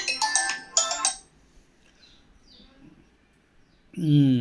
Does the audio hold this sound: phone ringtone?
yes